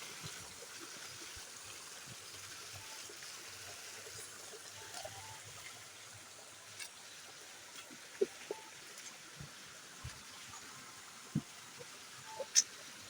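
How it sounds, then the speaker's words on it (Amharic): A small countryside river flows steadily in rural Ethiopia, its faint, even rush of water continuing throughout with a few soft splashes and knocks rising late on. "ደግሞ ትንሽዬ ወንዝ አለች።"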